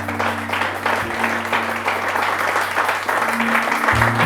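A church congregation applauds in a steady, moderately loud wash of clapping that keeps going without break, with a low hum underneath.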